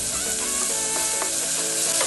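Onions sauté with a constant loud hiss and crackle in a hot pan for a Ramadan nonbu kanji, with a couple of soft scrapes as they are stirred.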